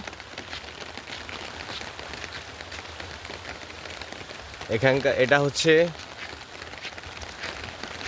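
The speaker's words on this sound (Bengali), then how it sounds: "বৃষ্টি হচ্ছে" Rain falls steadily during a village flood in foggy weather, producing an even, close hiss of drops on surfaces throughout, with a person speaking briefly in the middle.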